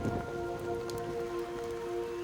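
Steady rain falls at night onto a muddy mound, giving a continuous close patter over a dense wash. A low thump sounds at the very start, and no one speaks.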